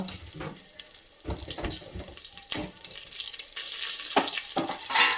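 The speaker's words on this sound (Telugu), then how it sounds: "ఒకసారి అన్నీ కలిపి వేయించుకోండి." Green chillies, asafoetida and cashews fry together in a pan for pongal, with a rushing sizzle and several bursts of stirring and scraping, close and fairly loud, louder toward the end.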